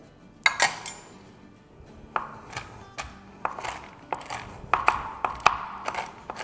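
A knife chopping pecans and walnuts finely on a board, with irregular sharp taps and clinks spaced unevenly, close and fairly quiet with no talk over them.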